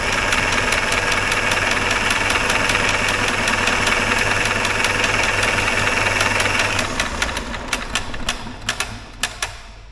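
A 1960s Caterpillar pony engine, a little stuck from sitting and freshly oiled, cranks over with a loud, rapid, even mechanical clatter that slows and breaks into separate knocks as it winds down near the end.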